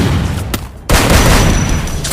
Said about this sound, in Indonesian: Bom nih.